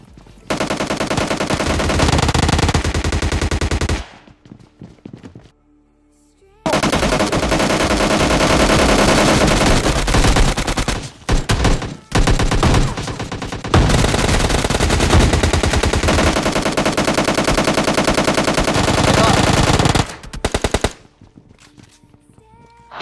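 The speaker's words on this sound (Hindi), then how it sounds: "और तभी आती है गोलियों की आवाज।" Rapid automatic gunfire from the PUBG Mobile Lite video game rattles loudly in long sustained bursts, breaking off briefly before resuming in heavy volleys.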